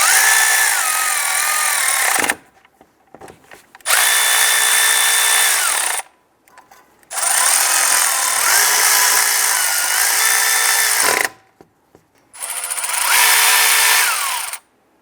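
A power tool snugs down nuts on an alternator bracket of a 2002-2008 Dodge Ram 1500 in four loud, close bursts of whirring, each lasting a couple of seconds with short silent gaps between.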